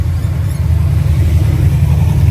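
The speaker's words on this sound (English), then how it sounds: "It's got a couple of noisy cars going past." A deep, noisy rumble of cars driving past a Chevy C10 pickup fills the whole stretch, close and loud.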